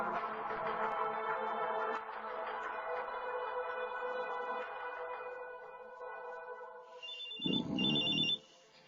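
A cellphone rings with a repeating electronic tone against a fading musical background in a radio horror drama, then a brief louder burst of noise near the end.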